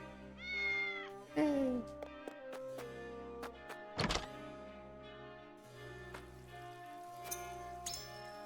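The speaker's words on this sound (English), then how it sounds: "Cat." A cat meows twice in the video game Triangle Strategy, clear and close over soft looping game music with chime-like tones and a single dull thunk.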